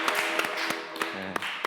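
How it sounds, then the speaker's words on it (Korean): Applause at a Korean variety talk show taping, with Dex and Sana hosting G-Dragon: scattered claps and taps over a dense, steady crowd wash. A brief low voice murmurs underneath. "박수 한번 주세요"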